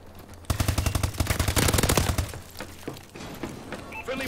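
Rapid automatic gunfire in the Rainbow Six Siege video game, a loud close burst of dense evenly spaced shots lasting about two seconds, then scattered impacts and game sounds as a voice speaks over it.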